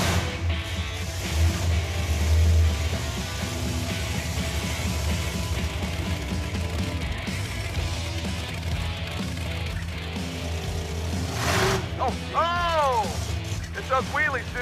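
A 1950 Ford F6 dump truck drives with a steady, rumbling engine and mechanical clatter under scattered talk, and a sharp knock sounds near the end.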